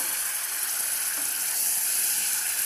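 Tomatoes and chicken hit masala frying in oil for a chicken soup, producing a loud, dense, continuous sizzle with no talking.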